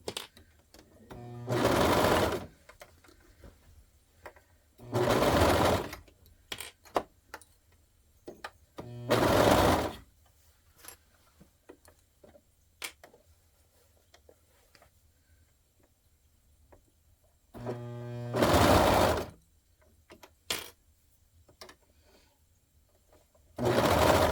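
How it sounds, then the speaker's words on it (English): Sewing machine stitching over flattened seams on cotton boxers, running in five separate loud bursts of a couple of seconds each, with quiet pauses and faint handling noises between them. "I'm going to have my seams like flat when I sew over them"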